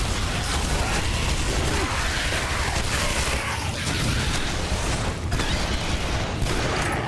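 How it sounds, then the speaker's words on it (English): Rapid, chaotic bursts of explosions and impacts in the video game Shadow Warrior (2013) pile up continuously, loud and dense with no pauses, almost like a barrage of blasts. "Unfortunately, I'm not immune to explosions."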